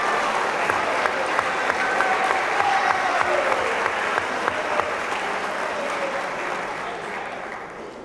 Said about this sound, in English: Give a round of applause to our academic all-district honorees to this point.